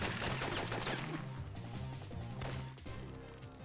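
Gunfire erupts at a theater in the PS1 espionage game Syphon Filter, a dense spread of shots and impacts layered with game music and noise, steady and fairly loud throughout.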